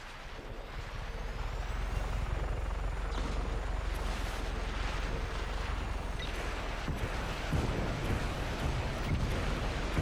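A steady, loud rotor drone of a helicopter in the video game Just Cause 3 runs throughout with a dense rumbling whoosh and no talking.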